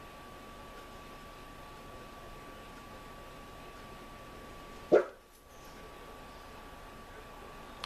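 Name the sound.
dog Sasha barking at passing cars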